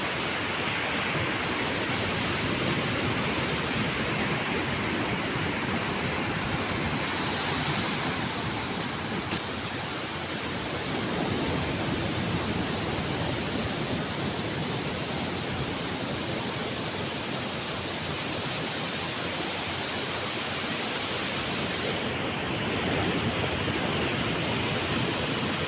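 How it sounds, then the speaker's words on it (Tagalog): Strong ocean waves roll onto Lio Beach in El Nido, Palawan, as a steady, loud wash of surf that fills the whole stretch with no voices. "medyo malakas po yung alon"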